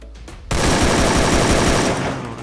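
Loud, dense automatic gunfire in the mobile shooter game Free Fire, a continuous rapid burst starting abruptly and roaring for about two seconds after a brief lead-in.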